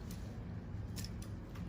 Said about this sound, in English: I'm going to just lightly cut it off right here